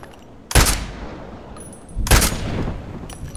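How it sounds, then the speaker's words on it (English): Two loud, close gunshots ring out about a second and a half apart in the video game Contract Wars, each with a short decaying tail. "you just put a bullet there, and then shoot right on that bullet"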